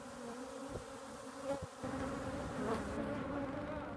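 A dense, continuous buzz of many bees fills the air, steady and close, with occasional individual insects droning louder past.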